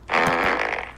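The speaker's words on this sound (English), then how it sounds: "Fart in autotune" A fart sound effect played alone, one loud, buzzy, sputtering blast lasting about a second with no talk over it.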